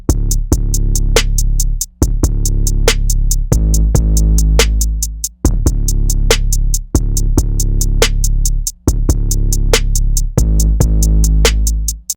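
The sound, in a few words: kick drum and 808 bass playing together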